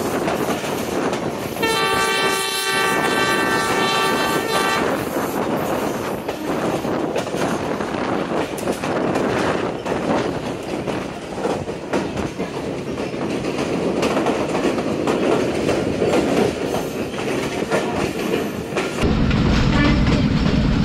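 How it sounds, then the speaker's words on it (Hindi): The Sialkot Express pulls into the station with a long, loud horn blast early on, followed by sustained rumbling and clattering of wheels and carriages, ending in a sudden heavier roar. "ट्रेन इस वक्त पहुँच रही है"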